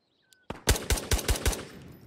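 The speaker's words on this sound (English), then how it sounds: "Yep, he's shooting at somebody." Automatic gunfire from another player in the video game Ghosts of Tabor, a rapid burst of five or six loud, evenly spaced shots following a faint click, with no talking.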